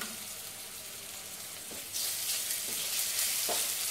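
Ginger and garlic paste sizzles steadily in a hot pan, a continuous broadband frying hiss that grows louder partway through, with a few soft stirring scrapes, no voices.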